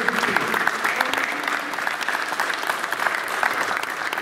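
Steady applause from an audience at a municipal council gathering, dense and moderately loud, continuing evenly without pause, with a faint voice briefly audible early on.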